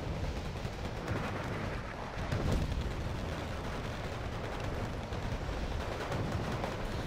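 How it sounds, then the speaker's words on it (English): Cluster artillery strike raining down in Wargame Red Dragon, a continuous rumbling roar of scattered distant blasts and crackling impacts, fairly faint and steady with a brief swell partway through. "Cluster artillery on the Bluefor forces here"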